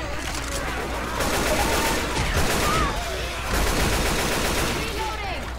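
Rapid, dense bursts of gunfire roll on continuously in a co-op zombie shooter, with a short lull before the shooting picks up again. Players talk excitedly over the top.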